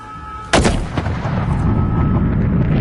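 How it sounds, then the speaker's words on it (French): Cannon fire in Call of Duty Modern Warfare: one loud, sharp cannon blast with a rolling boom, followed by a fainter second report and sustained battle rumble. "Tirez au canon!"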